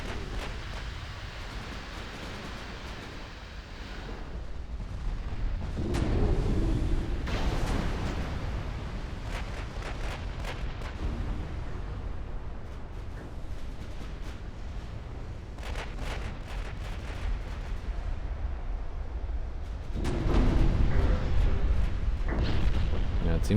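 Heavy naval guns fire during a battleship engagement in Ultimate Admiral Dreadnoughts, deep booming blasts and rumbling salvos recurring over a constant low sea-and-engine roar, with a voice talking over parts of it.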